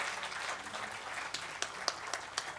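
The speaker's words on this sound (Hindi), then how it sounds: "मैं चाहती हूँ एक बार जोरदार तालियों से विजय जी का हम स्वागत करें" An audience at a poetry gathering claps to welcome Union minister Vijay Goel, a soft, fairly distant patter of applause that thins into a few scattered, sharper individual claps.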